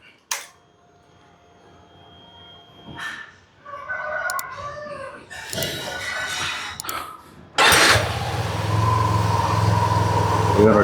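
A rooster crows and clucks nearby. Then a motorbike fitted with switchable ABS, standing on its centre stand, starts abruptly and settles into a steady, loud, low idle.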